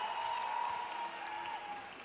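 A festival crowd applauds during a comedy carte blanche, soft and somewhat distant clapping under a sustained tonal whistle or feedback line, with no clear speech.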